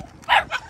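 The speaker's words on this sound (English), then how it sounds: "I'm gonna walk away so they'll quit barking." An Aussiedoodle puppy gives two quick, close, high barks in rapid succession.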